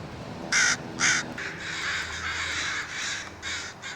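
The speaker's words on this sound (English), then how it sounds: "American Northwestern crow." An American Northwestern crow calling with two loud, sharp caws followed by a series of softer, hoarser caws in a steady rhythm, fairly close and with no other sounds.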